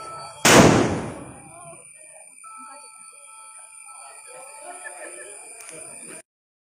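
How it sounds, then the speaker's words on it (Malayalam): A single loud firecracker burst at a celebration, a sharp crack with a decaying rumble, then a faint steady murmur of background noise. "വീണ്ടും വീണ്ടും പടക്കം പൊട്ടിച്ചോണ്ടിരിക്കും"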